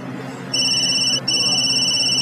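A telephone rings electronically in two bursts, a brief gap between them, clear and close with no talk.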